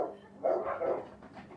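A small dog barks from a nearby house, giving a few faint, muffled yaps spaced apart over quiet outdoor background.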